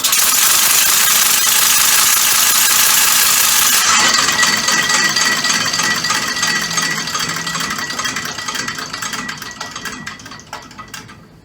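A compressed air motor fitted to a bicycle runs on a bench test, a fast loud rattling, clattering chatter that holds steady, then gradually slows and fades as it winds down, no talking.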